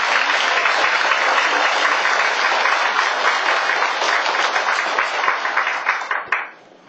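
A congregation at a Catholic Mass applauds together, a dense and loud wash of clapping that holds steady and then quickly fades out at the very end.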